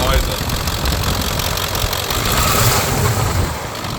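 A 2002 Ford F-350 pickup engine idling low after a cold start, with slight blow-by, gives a loud, steady rumble that fills the whole stretch without a break.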